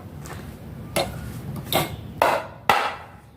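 Four sharp hammer strikes drive nails into the side of a door frame, spaced unevenly about half a second apart, each ringing briefly over a low background hum.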